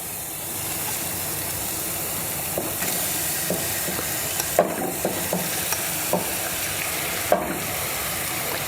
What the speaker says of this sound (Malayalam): നമുക്ക് നമ്മൾ എടുത്തിരിക്കുന്ന പോർക്കിറച്ചി ഇട്ട് കൊടുക്കാം.